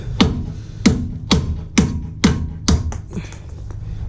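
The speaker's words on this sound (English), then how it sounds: "now I'm just gonna stick my little piece of scrap steel in there and just hammer away" Sharp metallic hammer strikes on a piece of scrap steel drive out a bushing on a Mazda RX-7 rear end, six blows about half a second apart, close and loud.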